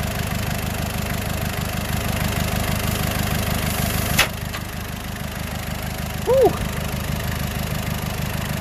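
A Ford Courier WLT diesel with excessive piston ring blow-by idles close by, a steady rhythmic knocking chug that goes on throughout, with a sharp click midway and a brief whine near the end.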